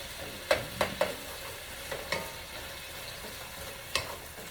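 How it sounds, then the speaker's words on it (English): Meat sautés over high heat in a paella pan for a seafood paella with shrimp, crab, mussels, clams and sausage: a steady close sizzle broken by several sharp utensil scrapes and taps. "I just want to get my meat sauteed up."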